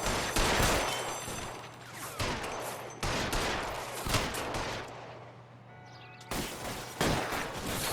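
Enemy gunfire in L.A. Noire: loud, close bursts of rapid shots crack out in several separate volleys with brief lulls between them, and a steady low hum runs underneath.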